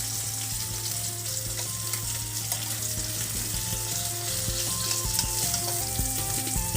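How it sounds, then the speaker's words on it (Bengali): Pomfret fish frying lightly in oil in a pan, a dense, continuous sizzle and crackle held close and steady throughout, with faint stirring and no voices. "মাছ হালকা হালকা করে ভাজা হয়েছে, বেশি ভাজলে ভালো লাগবে না খেতে"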